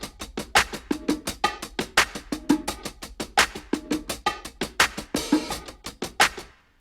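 Layered clap samples from the Drums That Knock Vol 9 and 10 packs repeat in a fast, steady pattern, sharp and bright, each hit stacked with a second clap, loud and dry with no voices.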